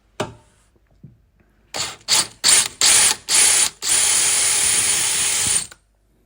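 A drill whirs in several short bursts while drilling out corroded toilet seat bolts, bit cooled with running tap water, then runs in one steady, loud stretch before stopping.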